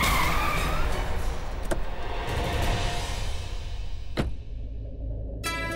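A car pulling to a stop with a loud rushing road and tire noise, a couple of sharp brief squeaks, and the engine settling at the end, no speech over it.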